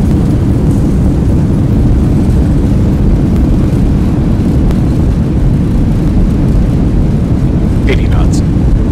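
Simulated Boeing 737-800 in X-Plane 11 roaring with loud, steady broadband reverse thrust and rumble just after a firm landing, continuous throughout with no speech.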